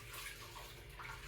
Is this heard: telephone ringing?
no